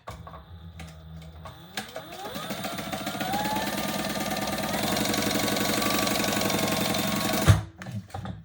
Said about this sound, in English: let's sew this top raw edge closed, just 1/8 of an inch